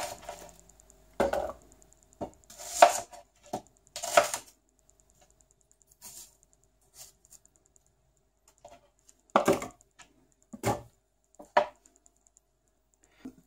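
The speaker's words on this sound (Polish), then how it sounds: "Cebulę kroimy w kostkę, możemy to zrobić ręcznie" A knife dicing small onions into cubes on a board, giving irregular clusters of crisp taps and chops separated by quiet pauses, close and clear with no talking.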